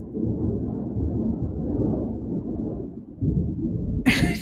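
Deep thunder rolls and rumbles continuously through a lightning storm, a loud low drawn-out roar that dips briefly near the end, then ends in a sharp crackling burst.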